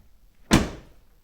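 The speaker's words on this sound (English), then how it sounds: "let me close the door here." A vehicle door fitted with powered running boards swings shut in one solid, close thud that fades quickly, with quiet surroundings before and after.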